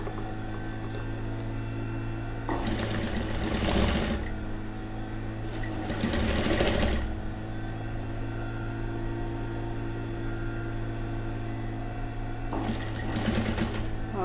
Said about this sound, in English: You go down and you continue sewing.